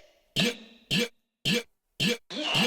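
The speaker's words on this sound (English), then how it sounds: "And then we got some funny chants." Funny vocal chants in a hip hop EDM track come as five short, punchy shouted bursts in an even rhythm, loud and dry, separated by brief silences.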